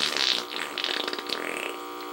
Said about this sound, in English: Wet fart.